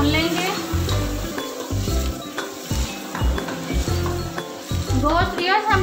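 Meat for a dhaba-style aloo gosht fries with yogurt in a pan, sizzling steadily while a spoon stirs and clinks against the metal in quick, uneven strokes, with a voice talking over it.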